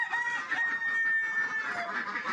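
Chickens on a farmstead, with a rooster letting out one long, drawn-out crow that holds for a couple of seconds, fairly near and unaccompanied by talk.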